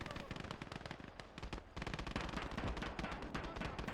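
Gunfire in the WWII strategy game Call to Arms Gates of Hell, Winter War setting: dense, continuous rapid shooting and bursts throughout, with a brief lull midway before it resumes heavily.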